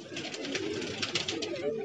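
Pigeons in a home loft, slate, kasni, bajra and kalsara birds, give a steady, overlapping low cooing close by, with soft fluttering and rustling underneath and no talk.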